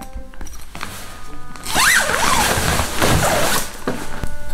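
Someone pulls open the double zipper on a giant family sleeping bag sized for four people. Two long, rasping zip pulls come close up, with softer fabric rustles before and after.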